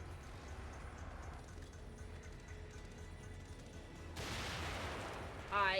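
A grenade goes off in The Evil Within, a broad burst that swells near the end after a stretch of low rumbling game ambience, with a brief sharp crack closing the moment.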